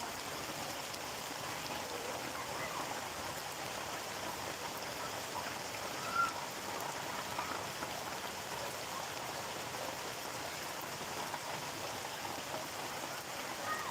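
Rain falls steadily in Gazipur, Bangladesh, making a soft, even hiss that continues without a break, with one faint tap partway through.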